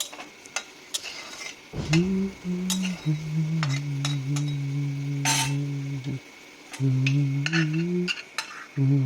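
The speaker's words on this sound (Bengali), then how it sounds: "আলুগুলোকে আমি সুন্দর করে লাল লাল করে ভেজে নেব" Potatoes frying in a covered pan, a steady low sizzle with scattered clinks and scraping of a utensil against the metal, close and fairly quiet, with no one speaking.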